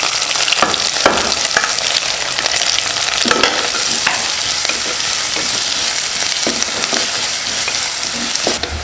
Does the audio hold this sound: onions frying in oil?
yes